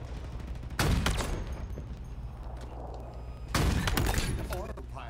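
Halo Infinite multiplayer gunfire, two loud sharp volleys with crackling echoes separated by a few seconds of steady game ambience, with a sniper rifle in play.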